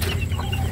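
Hens cluck close by in a brief, busy burst of farmyard sound.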